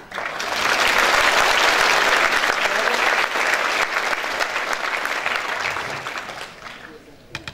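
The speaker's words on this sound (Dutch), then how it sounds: "Een hartelijk applaus voor Albert Ettema." A hall crowd at a 140th-anniversary celebration of a town wind band gives warm applause for the band's chairman, swelling quickly to full strength, then slowly thinning out.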